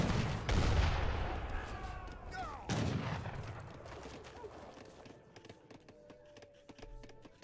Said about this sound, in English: Look at these hand mortars go.